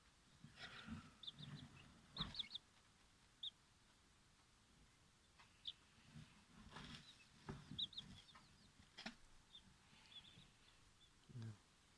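High, thin peeping chirps from young turkey chicks scattered over a few seconds, with soft rustling, flapping and faint speech in the background.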